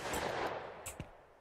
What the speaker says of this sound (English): There's gunshots down here.